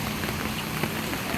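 Heavy rain pours during Cyclone Fengal in a residential colony at Kodambakkam, Chennai, a steady dense hiss of water falling with no voices.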